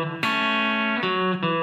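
Country guitar lick with pull-off double stops, three clean plucked attacks ringing out in quick succession, each note sustaining bright and close with no talking.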